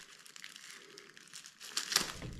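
Victorinox multitool knife blade slicing through plastic, a close, quiet crinkling and crackling rasp that builds to a sharper snap near the end.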